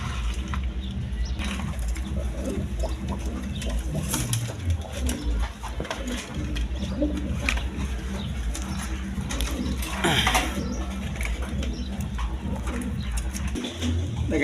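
A male Lahori pigeon coos repeatedly, low and close, over a busy background of other birds and faint wing flutters.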